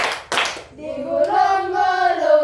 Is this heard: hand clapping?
yes